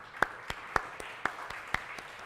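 A church congregation at a Sunday service claps to welcome a first-time visitor, sharp claps falling in a steady, even beat roughly four times a second.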